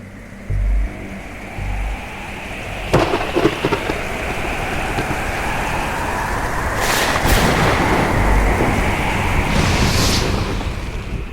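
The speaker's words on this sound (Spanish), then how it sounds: "Aquella noche hubo tormenta" Steady heavy rain hiss from a thunderstorm runs throughout, with a sharp crack near three seconds and brighter rumbling bursts around seven and ten seconds, loud and close.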